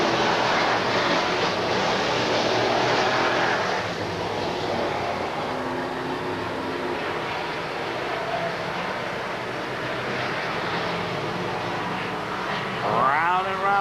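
Race cars in a cable-broadcast event roar on track out of turn four, producing a loud, sustained blend of engine drone across the whole stretch, with a rising whine near the end.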